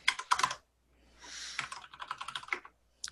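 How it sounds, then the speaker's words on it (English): Rapid bursts of crisp clicks from a clicky computer keyboard being typed on, heard close up over an online community meeting call, with short pauses between flurries of keystrokes. "I hear you typing and see it on my screen"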